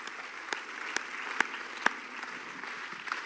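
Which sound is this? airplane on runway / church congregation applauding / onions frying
church congregation applauding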